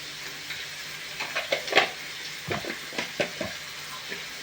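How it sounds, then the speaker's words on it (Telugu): Onion fries in a pan as the base for an egg curry, giving off a soft, low sizzle. Scattered clicks and light clatter from stirring sit on top of it. "ఆనియన్ ఏగుతుంది"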